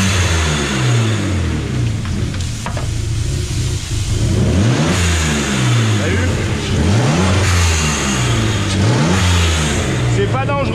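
A BMW 325i E36 with a bi-turbo conversion, built as a race car, revved repeatedly up and down while parked, close and loud, with rising and falling engine pitch and a person speaking briefly.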